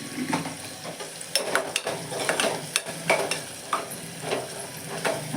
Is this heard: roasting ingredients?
yes